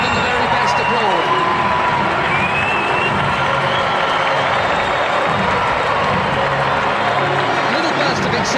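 At a Portugal versus Nigeria football match, a stadium crowd applauds and cheers in a dense, continuous roar, heard under a commentator's voice.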